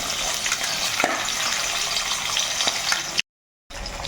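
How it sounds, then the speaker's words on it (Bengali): Fish pieces frying in hot oil left from frying lentil fritters, a steady close crackle and hiss with a few sharper pops, cut by a brief silent gap near the end. "এখন এই তেলেই কিন্তু আমি মাছটা কিন্তু একটু ভেজে নেব লাল লাল করে।"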